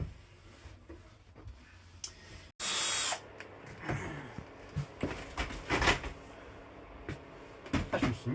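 A top cabinet is screwed into the wall studs inside a converted van: a loud burst of power drill whirring, then close knocks, clunks and scraping as the cabinet is handled, with no talk.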